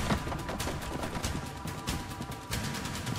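Rapid gunfire in the first-person shooter Trepang2, a fast series of sharp shots in bursts, moderately loud and continuing for the whole stretch with no talking.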